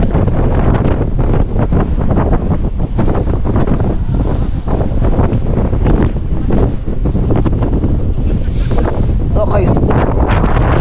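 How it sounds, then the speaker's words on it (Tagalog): Strong wind on Mt. Batulao roars and buffets the microphone continuously, loud and gusty, with faint voices partly buried beneath it. "Ang lakas ng hangin."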